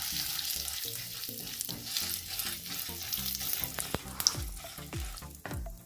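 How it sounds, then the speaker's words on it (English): Red chili powder frying in hot oil in a kadai for homemade pizza sauce: a bright crackling sizzle under scattered clinks and scrapes of a spoon against the pan, fairly close, with no talking. "Once the oil is hot, I will add the red chili powder. Fry it for half a minute."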